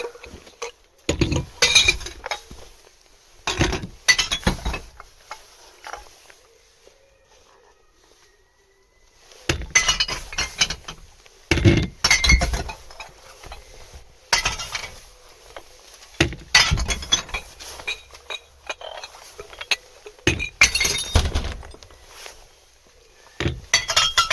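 Glass bottles drop into a bottle recycling bin sorted by colour in Wilhelmshaven, Germany, giving repeated bursts of clinking and breaking glass with short quiet gaps, close and fairly loud.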